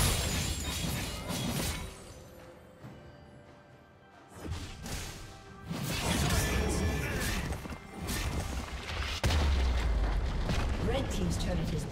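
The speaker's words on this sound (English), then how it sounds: "Red team's turret has been destroyed." Turret destruction in League of Legends, top-lane match with Garen versus Teemo: a loud crashing, shattering impact with rumbling debris, layered among busy game effects and music, with a spoken announcement heard.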